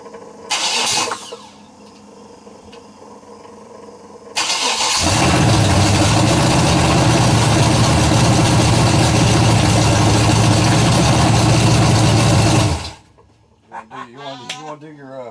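A 427 big block V8 mounted on an engine stand cranks briefly, then catches and roars at a loud, steady high idle for about eight seconds before shutting off, followed by a few spoken words.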